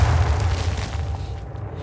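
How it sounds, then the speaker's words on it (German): A deep, rumbling grenade blast in a video game, a heavy low boom that fills the start and slowly tails off into quieter rumble. "Oh, Granate."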